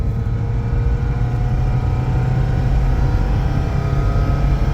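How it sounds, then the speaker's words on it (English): A 1997 Toyota RAV4 four-cylinder engine revving hard as it accelerates up an interstate on-ramp, a steady loud drone of engine and road noise that holds throughout with no talking. "As the revs build, she speeds up. That little Toyota 4-banger just working hard, man."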